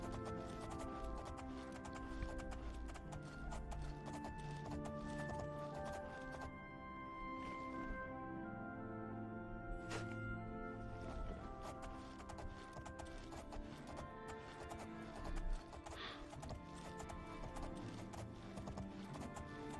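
Rhythmic clip-clop of a horse's hooves in the video game The Elder Scrolls IV: Oblivion, at a quick pace, continuous and fairly close, with an occasional whinny over a busy background.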